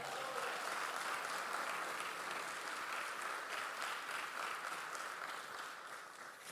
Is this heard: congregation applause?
yes